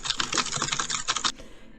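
A computer keyboard is typed on rapidly, close and crisp, a dense run of clicky keystrokes that stops abruptly and leaves a short quiet tail.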